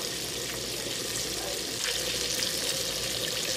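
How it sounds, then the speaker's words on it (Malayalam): KFC-style chicken fries in oil, one batch at a time, with a soft, even hiss that holds steady throughout at moderate distance. "ഇതുപോലെ തന്നെ നമുക്ക് എല്ലാ ബാച്ചും ഫ്രൈ ചെയ്തെടുക്കാം."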